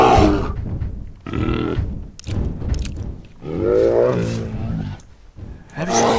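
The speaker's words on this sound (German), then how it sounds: "Da waren 5 Bären, verdammt." Several bears in the video game DayZ roar and grunt in loud, close bursts separated by brief gaps, the deep growls rising and falling one after another.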